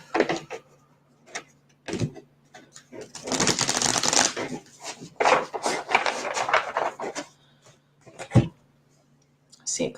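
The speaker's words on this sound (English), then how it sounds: "I'm shuffling the deck one more time." A deck of cards is shuffled in repeated riffling bursts, crisp and close, with pauses between, while a person speaks intermittently.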